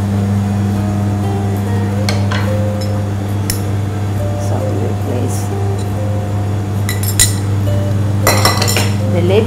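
A pan sits on a kitchen stove while milk goes in for cheese gnocchi, with light clinks of metal and cutlery over a loud, steady low hum from the cooker or a fan.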